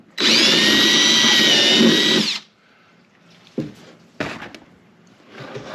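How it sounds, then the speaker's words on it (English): A power drill with a 1/4 inch bit whines at high speed for about two seconds, drilling a hole in a fuel tank, then stops, followed by a few light clunks and scraping handling noises. "So first, I'm going to drill out a hole on the end."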